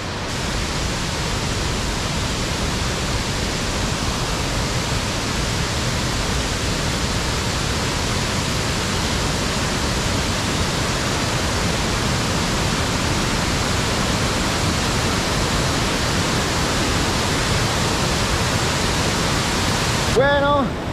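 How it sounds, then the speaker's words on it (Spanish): The Cascada La Gloria waterfall at Tolantongo, with its turquoise river, roars as a loud, unbroken wash of falling water that fills the whole stretch with no other sound standing out. "Vean la belleza que es estas cascadas. Cascada La Gloria, el río de agua azul turquesa de Tolantongo"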